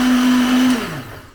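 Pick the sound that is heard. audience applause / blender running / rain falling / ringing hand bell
blender running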